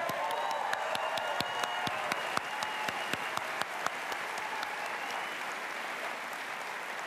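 Conservative rally crowd applauding in Halifax, a dense steady wash of clapping with sharp individual claps popping out, sustained throughout at moderate distance.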